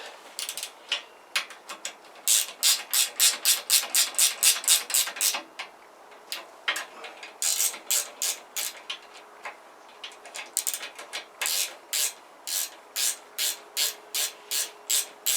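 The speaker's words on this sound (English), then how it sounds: "Run them up with a spanner first" A ratchet spanner clicks in quick repeated bursts while bolts on a Kawasaki GPZ500S motorcycle are tightened, the rapid ticking coming in steady runs with short pauses between strokes, close and fairly loud.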